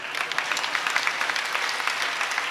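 An audience claps throughout a Hindi-Urdu poetry recital of a nazm by Hashim Firozabadi in Firozabad, dense steady applause with crisp individual claps, no voices heard.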